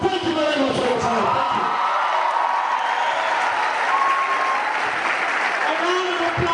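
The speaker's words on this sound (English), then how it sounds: "A round of applause. Please continue to clap. Continue to clap." An audience claps together in sustained, close applause that holds steadily throughout, with a few scattered crowd noises mixed in.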